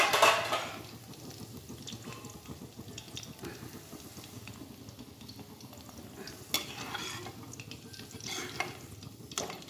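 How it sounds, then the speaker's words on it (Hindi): Okra frying in hot oil while it is stirred in a pan, giving a continuous soft sizzle broken by scraping stirs, close up with no talk. "ये मैंने सारी भिंडी निकाल ली फ्राई करके।"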